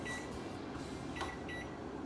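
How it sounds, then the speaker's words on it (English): A kitchen timer being set gives a few short, faint electronic beeps over a steady low hum, with no voices. "And set a timer for 26"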